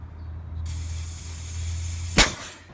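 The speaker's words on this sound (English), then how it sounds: "that pressure buildup like all came out" Refrigerant pressure bursting out of a 2003-2007 Honda Accord AC line as a sudden loud, steady spray-like hiss lasting about two seconds, ending in a short sharp pop, over a low engine-bay hum.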